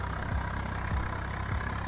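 A modified Swaraj tractor engine runs near and loud, a steady low diesel drone with a repeating thump roughly every six tenths of a second, with no voices.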